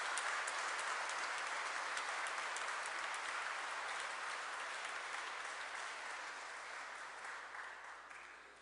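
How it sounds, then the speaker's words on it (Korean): A hall full of people at a Catholic priests' ordination jubilee celebration gives warm, sustained applause that holds steady and then slowly tapers off toward the end. "큰 박수 부탁드립니다."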